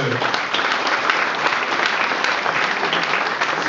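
A town hall audience at a New Year ceremony in Feuguerolles-Bully, 2013, bursts into dense, steady applause, many hands clapping together at close range throughout.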